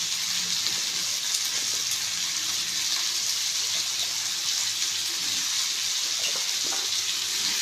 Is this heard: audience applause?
no